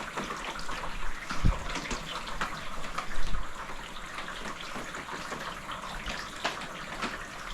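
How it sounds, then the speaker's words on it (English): Rainwater runs and drips steadily from pergola roof panels into gutters outdoors, a continuous wash of trickling water with occasional louder splashes, heard up close. "I can hear the water coming, dripping down into the gutters from above."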